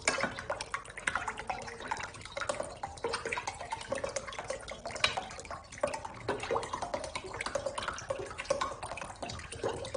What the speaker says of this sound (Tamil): எல்லா தண்ணியும் ஃபில் பண்ணிடலாம்.